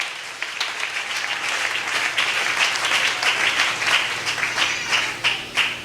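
A church congregation at a Sunday service applauds with sustained, dense clapping from many hands, steady and moderately loud throughout, with no clear voices over it.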